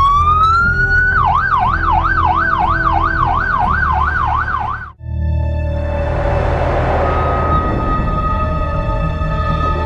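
Ambulance siren wails loud and close, rising then switching to a fast warbling yelp, cutting out briefly and returning as a steady tone over rumbling traffic noise.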